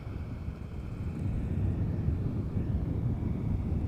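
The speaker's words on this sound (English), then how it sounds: "we've got a KLM 737 moving into center" A KLM Boeing 737 taxiing at Amsterdam Schiphol gives a low, steady engine rumble that swells slightly, heard alone from a distance with wind in the background.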